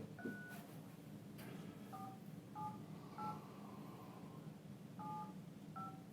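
A telephone keypad dials a cell phone number as a series of short, separate tones at an uneven pace. The tones are faint and sit over a steady room hum.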